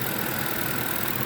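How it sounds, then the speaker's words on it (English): A 2006 Ford F-150 engine idles steadily at close range during a Seafoam fuel-system treatment, giving a constant, even hum with no change in speed and no voices over it. "Okay, so now I'm gonna stop the engine."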